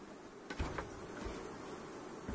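Honey bees buzzing around a beekeeper's honey extraction, a faint steady hum with a few brief nearby bumps and handling sounds.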